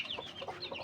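A Chinese and native crossbreed chicken gives a short run of soft clucks, close and alone without talk.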